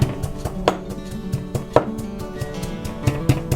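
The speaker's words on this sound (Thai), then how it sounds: "แล้วก็ให้เราโขลกให้ละเอียดให้เข้ากันเป็นเนื้อเดียวเลยค่ะ" Garlic is pounded with salt in a mortar, producing a quick series of sharp, close thuds at an uneven rhythm with small knocks in between. No voices are heard.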